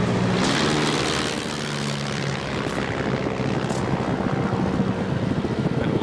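Vintage WWI-era propeller aircraft engine powering back up just before landing on a grass field, a steady loud droning roar with a throbbing low hum that holds throughout.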